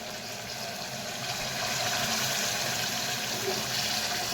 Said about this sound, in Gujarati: તો આપણે એમાં પાણી એડ કરી દઈશું